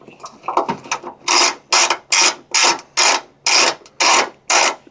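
Ratchet wrench backing a bolt out of a ditch light bracket, a quick burst of clicks followed by eight loud, evenly spaced ratcheting strokes, close up.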